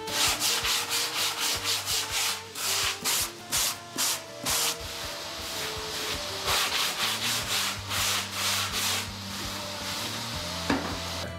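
Foam bodyboard being hand-sanded at the nose and channels, with rhythmic back-and-forth rubbing strokes, close and steady, in quick bursts with brief pauses between.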